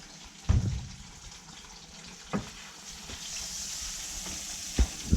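Sand gobies frying in butter with wild garlic give a soft, steady sizzle close by, broken by a few sharp clatters of the pan or utensil.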